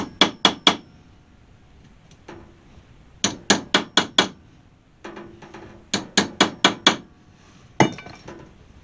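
Sharp metallic hammer taps on stainless steel hood trim of a 1968 AMX come in quick bursts of three to five, separated by short pauses, ringing close and loud.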